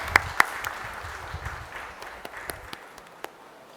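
Audience applause at an industry launch event for a metal 3D printing machine, a soft wash of clapping with a few sharp close claps early on, slowly thinning out toward the end.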